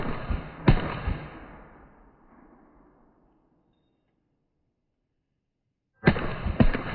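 M4 rifle fired at a target across a room: a sharp, loud report near the start with a long fading tail, a stretch of silence, then another cluster of close, cracking shots at the end.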